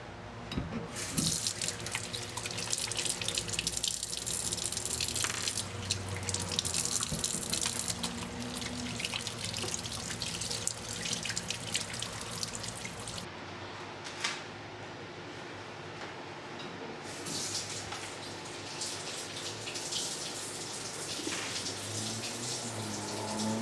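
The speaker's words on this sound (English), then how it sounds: "So I'm gonna go wash my hands." Tap water runs steadily into a kitchen sink during handwashing, a continuous broadband splash with small shifts in flow that fills the whole stretch, with no talking over it.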